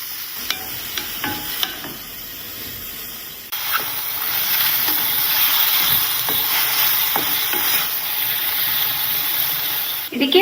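Chopped onion and mushroom sizzle in a hot pan, a steady frying hiss with scattered crackles and occasional stirring scrapes, loudening midway as moisture cooks off.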